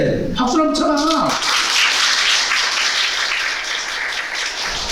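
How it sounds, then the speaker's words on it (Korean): An audience at a tax seminar breaks into applause after a brief spoken phrase, the clapping forming a loud, dense, sustained patter close by that fills the rest of the moment. "박수를 한번 쳐봐"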